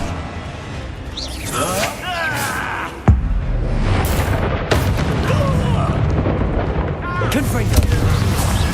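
Incendia fire spell blasts in Hogwarts Legacy: a loud sudden boom around the three-second mark amid crackling, whooshing magical bursts and sharp pops, with sweeping tonal flourishes over game combat noise and a voice calling out.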